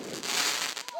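A first firework lit outdoors, a burst of loud crackling and fizzing with sharp pops toward the end, heard close up with people talking over it.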